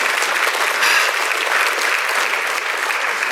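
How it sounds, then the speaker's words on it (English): Steady, dense audience applause fills the room at an even, fairly loud level throughout, with no breaks or talking over it. "Oh, that's worthy of clap"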